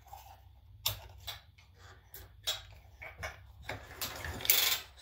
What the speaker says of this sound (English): reaching in there and prying them both out one at a time.